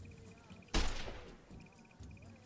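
A single loud rifle shot in Arma 3, a sharp crack with a decaying tail, set against quiet background game noise with no talk.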